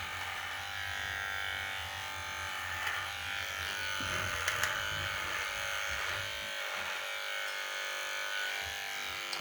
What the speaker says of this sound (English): Gotta give it a good shave.